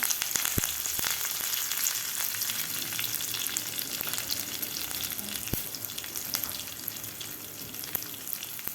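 Finely chopped green chili and a handful of curry leaves crackle and sizzle in hot oil in a pan for moong dal vadi, a steady, close frying hiss with scattered pops.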